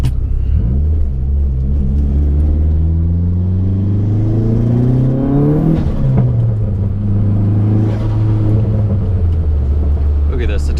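Turbocharged Dodge Neon SRT4 car accelerating from inside, with a loud engine drone rising in pitch through the gears, dropping at a shift around six seconds, then climbing again, while a person talks over it.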